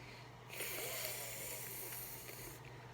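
A voice imitates a lawn sprinkler's steady whispering sound, a soft continuous breathy hiss held for about two seconds, fairly quiet and alone.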